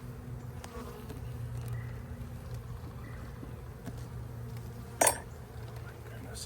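Honeybees buzz steadily around open hives during a hive split, a close, continuous low drone with a brief clink of equipment partway through.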